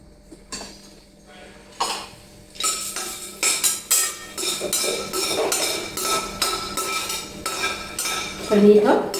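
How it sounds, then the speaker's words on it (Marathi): Black and green cardamom being dry-roasted in a pan with a little oil, heard as a close, fairly loud run of rhythmic metal clinks and scrapes from a spoon stirring against the pan. "मोठी वेलची भाजून घ्यायची, आणि त्याचबरोबर हिरवी वेलची भाजून घ्यायची"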